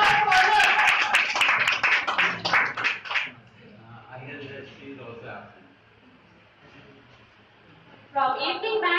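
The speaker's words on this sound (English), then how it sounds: "A big round of applause for her." A burst of loud, close clapping and applause at a prize distribution ceremony for about three seconds fades out, then a quieter stretch, before clapping resumes near the end.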